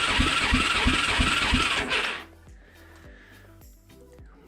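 A 2004 Arctic Cat DVX434 ATV engine cranking during a compression test with the throttle held wide open, a loud, steady pulsing churn for about two seconds that then cuts off and leaves faint clicks and hum.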